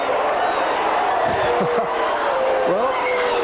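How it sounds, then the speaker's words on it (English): Norwood supporters cheering at a 1984 Australian rules football match, a broad steady crowd roar filling the ground with scattered shouts and a commentator talking over it. "The crowd pretty happy about that, the Norwood supporters"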